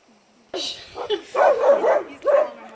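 Sled dogs from a small five-dog team at Denali National Park give a few close barks and yips in quick bursts, with people's voices mixed in.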